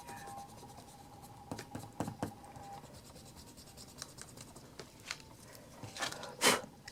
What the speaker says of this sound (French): je viens surtout là avec une petite gomme